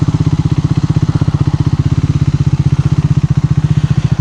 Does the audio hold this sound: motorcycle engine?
yes